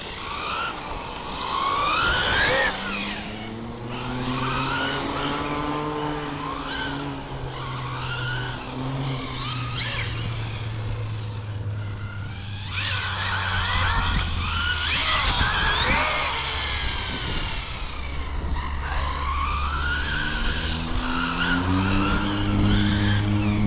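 A three-wheeled motorbike rides laps on a race track, its engine note rising and falling in long sweeping tones with tire squeal, loud and continuous throughout.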